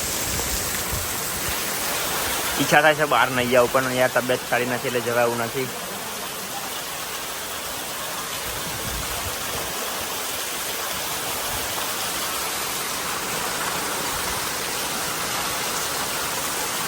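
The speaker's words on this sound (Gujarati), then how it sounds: "ફૂલ વરસાદ છે ફૂલ." Heavy rain pours down in a village, a dense, steady hiss that stays constant throughout, with someone speaking briefly over it near the start.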